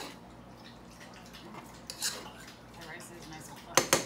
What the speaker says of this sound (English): I'm going to fluff the rice with my fork.